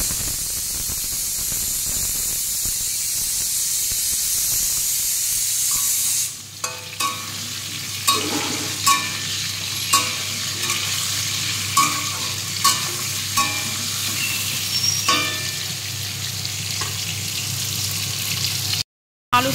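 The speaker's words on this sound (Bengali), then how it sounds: "পেঁপেটা যেহেতু কম ভাজবো, সেই জন্য আলুটা একটু ভাজা হলে তারপরে পেঁপেগুলো দেবো" Diced potatoes and papaya fry in oil in a pan and are stirred. A steady loud sizzle at first, then repeated scraping stirs at a fairly regular pace over the hiss, with no talk.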